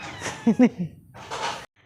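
A cat meows twice in quick succession close by, followed by a short breathy sound before silence.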